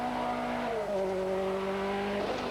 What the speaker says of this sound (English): The Peugeot still looking and sounding undramatic as it shoots off down the stage